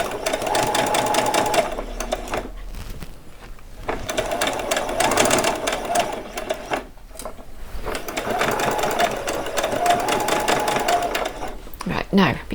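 Sewing machine stitching and back-stitching fabric for a doll's saree, a fast rattling hum in several bursts separated by short pauses, close and steady with no talk over it.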